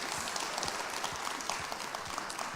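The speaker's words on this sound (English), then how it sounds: "a huge round of applause" A studio audience applauds for actor Ram Charan at an interview event, a dense steady wash of clapping that holds at even loudness throughout with no voices on top.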